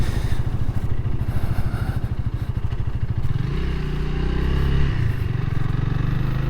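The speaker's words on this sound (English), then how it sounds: "Still sounds really nice for being a stock exhaust" A stock-exhaust single-cylinder 286cc motorcycle engine idles with a loud, steady low thump, then its pitch rises as it revs and holds a higher, smoother drone near the end.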